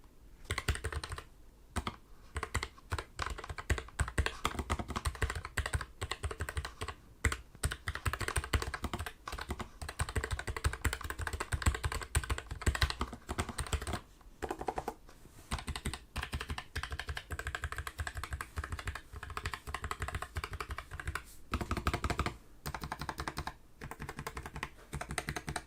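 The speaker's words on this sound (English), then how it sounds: "this wouldn't be a real review of a keyboard without having some keyboard sounds" Continuous rapid typing on a Keychron K3 Max low-profile wireless mechanical keyboard with hot-swap switches, a steady stream of close, crisp keystrokes with a few short pauses and no voices.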